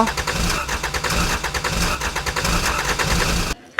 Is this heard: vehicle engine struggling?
yes